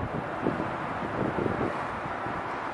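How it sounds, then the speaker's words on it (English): Gusty wind buffets the microphone outdoors beside a river during an afternoon of fly fishing, a steady low rumble with soft swells and no voices. "I'm trying to crouch out of the wind"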